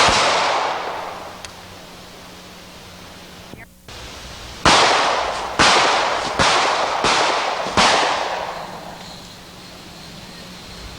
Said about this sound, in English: let's see our little Kimber in action with some jacketed hollow point ammunition